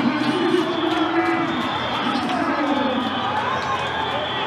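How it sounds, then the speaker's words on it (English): Rugby crowd at the RFUEA ground roaring after a try, a dense sustained wall of cheering and shouting that stays loud throughout with no clear pauses. "The crowd is rapturous here at the RFUEA ground."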